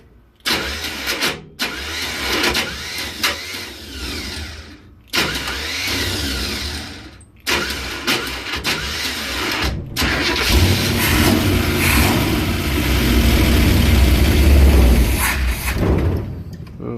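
A camper van's engine, low on gas with a carburetor in need of rebuilding, cranks in several bursts with brief pauses between them, then catches and revs loudly and steadily for several seconds before settling.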